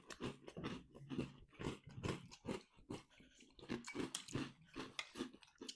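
Chocolate breakfast cereal crunched while eating, close, loud repeated chewing crunches in a steady rhythm of roughly two per second, with no talk over them.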